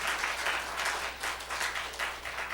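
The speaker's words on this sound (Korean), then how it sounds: "우리 귀한 말씀 전해주신 우리 목사님을 위해서 우리 박수로 한번 격려하겠습니다" A church congregation at a founding service claps for the pastor in a soft, steady patter that swells and eases in waves, faint and somewhat distant.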